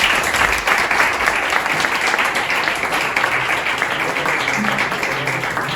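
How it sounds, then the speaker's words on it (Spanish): An event audience gives sustained applause to welcome a speaker, a full, even wash of many clapping hands at close range with little else audible. "un aplauso para Juanra."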